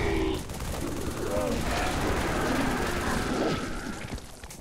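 Grenade blasts and rattling gunfire in Halo 3 form a dense, continuous battle din, with repeated sharp bursts piling up over one another at close range.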